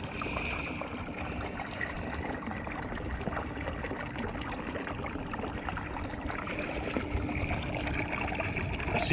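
Constant rushing, gurgling water noise from a bilge pump pushing water out of a kayak, with a low steady hum underneath, fairly even and unbroken throughout.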